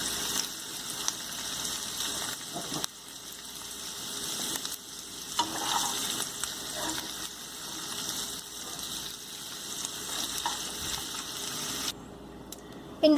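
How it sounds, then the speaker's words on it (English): Mixed vegetables fry in a pan with an even, moderate sizzle. Scattered scraping bursts come from stirring, and the sound drops off sharply near the end. "We have to fry this vegetable only for 3 to 4 minutes"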